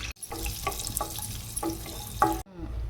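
Half a cup of cashews fries in a spoonful of ghee for semiya kesari, a soft, quiet sizzle broken by a few light stirring clinks before cutting off abruptly.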